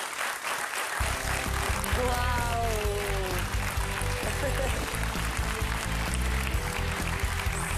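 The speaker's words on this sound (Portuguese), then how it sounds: "Vosso aplauso," A TV studio audience applauds to welcome a guest onto a Portuguese charity programme, steady clapping running throughout while a presenter talks and exclaims over it.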